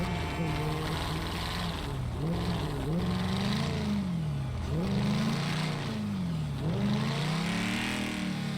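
A car engine in a fan-made Unreal Engine racing game revs hard in repeated rising and falling sweeps, loud and continuous, with a voice faintly talking underneath.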